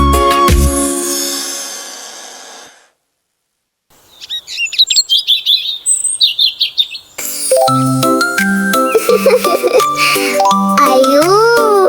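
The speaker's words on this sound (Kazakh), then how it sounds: "Құстар ән салып жатыр" Birdsong from a Kazakh-language cartoon: bright chirps and tweets ring out for a few seconds, then give way to a busy musical passage, with no talk.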